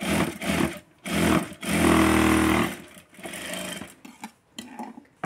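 A tailoring sewing machine stitches a blouse petticoat seam with a loud, close, steady motor whir that surges in a few runs and then tapers into short uneven bursts.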